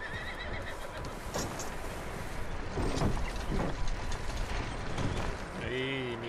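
A horse whinnies in a barn in the Red Dead Redemption 2 video game, a rising, wavering neigh near the end over a dense bed of game ambience and movement noise, with people talking.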